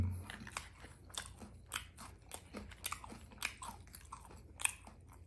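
Crispy food being chewed close up at a birthday gathering, with repeated crunchy bites in an irregular rhythm and no talk over them.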